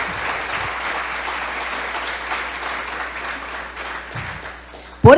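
A church congregation applauds in praise during a Spanish-language Christian sermon, steady sustained clapping from many hands that carries on for several seconds before a sharp, loud burst at the very end.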